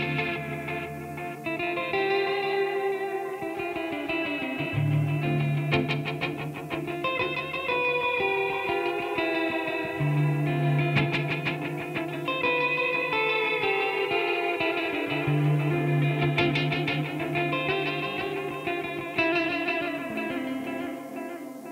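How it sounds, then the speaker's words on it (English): An Arturia dirt delay plugin processes a repeating instrumental phrase, its distorted echoes trailing each note over a bed of steady hiss and noise, with no talking. "There's a lot of noise there from the dirt delays."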